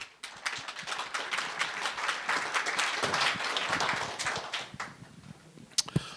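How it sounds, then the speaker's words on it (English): A conference audience gives dense, lively applause for a session sponsor, with many hands clapping close together; it thins out near the end, leaving a few last sharp claps. "Big round of applause for Earl"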